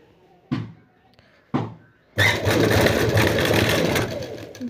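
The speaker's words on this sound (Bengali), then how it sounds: "এই যে এভাবে দিয়ে সেলাই করে নেব।" Sewing machine stitching a round collar on an anarkali frock: two sharp knocks, then the machine starts up and runs in a loud, steady, close whir.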